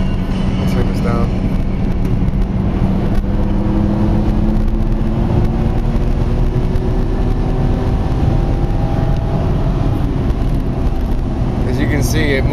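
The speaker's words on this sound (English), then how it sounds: "I'm going to show you a little acceleration here" A 2001 Jaguar S-type V8 with 300 horsepower pulls away from inside the cabin, its engine note rising gradually in a steady, strong drone over a constant road roar, with a person talking briefly.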